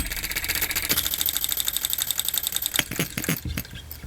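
A small DIY model engine low on fuel chatters with a fast rapid ticking beat, then stumbles into uneven, sputtering bursts toward the end, close and fairly quiet.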